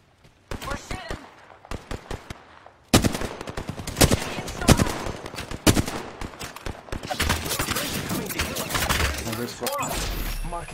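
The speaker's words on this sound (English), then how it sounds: "We're shooting." Rapid automatic gunfire and bursts of shots from a video game firefight, loud and dense throughout, with players talking over the shooting.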